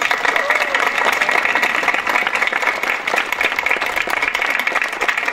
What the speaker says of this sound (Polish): Brawa dla rodziny Krupskich.